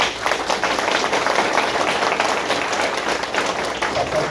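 An audience at an engineering week event breaks into steady, dense applause, a continuous wash of many hands clapping at close range for the full few seconds.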